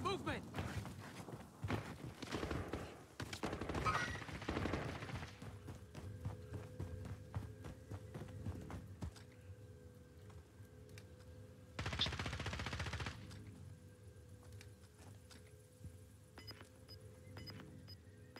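Bursts of automatic gunfire in the battle royale game Call of Duty Warzone, a dense run early on and another short burst later, set among footsteps and quieter game sounds, with people talking.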